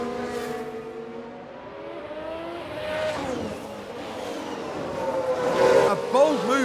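Formula 1 cars racing in F1 Manager 2022, an Alfa Romeo among them, with engine whines sweeping past and rising toward the end while a commentator talks over the action.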